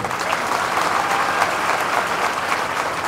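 Sustained applause from a large Maratha community rally crowd in Pune district, a dense, steady wash of many hands clapping at an even level throughout, with no voices standing out.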